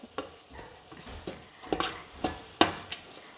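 Prawn biryani masala stirred in a pan: a spoon scrapes and knocks against the metal in irregular strokes over a soft background sizzle, close and fairly quiet, with no talking.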